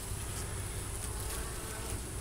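Honey bees buzzing around a semi-irregular beehive during a hive check, a dense steady drone of many insects close by, continuous and even, with no voices.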